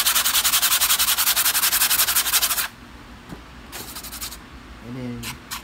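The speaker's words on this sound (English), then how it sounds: "So now when I come to the sandpaper" Sandpaper is rubbed back and forth over fiberglass on an aircraft wing in fast, regular, loud strokes for about two and a half seconds, then a few shorter sanding passes follow amid quiet handling noise.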